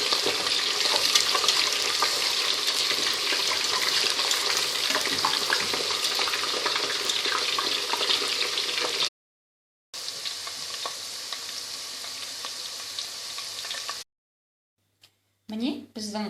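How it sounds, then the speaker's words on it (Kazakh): Potato slices for homemade chips deep-frying in hot oil until golden, a loud, dense crackling sizzle heard up close, broken by two brief silent gaps, with a voice speaking over the frying. "Және оны әбден қызарғанша қуырамыз картопты."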